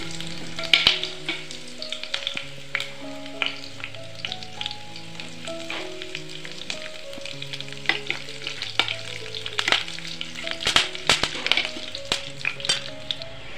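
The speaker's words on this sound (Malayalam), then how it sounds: "ഉള്ളി ഗോൾഡൻ നിറമാകാൻ തുടങ്ങുമ്പോൾ 1-2 വറ്റൽമുളക് മുറിച്ചതും കറിവേപ്പിലയും കൂടി ഇട്ട് കൊടുക്കാം" Shallots, dried red chillies and curry leaves fry in hot oil with a steady sizzle, punctuated by frequent clanks and scrapes of a spoon stirring against the pan; no voices.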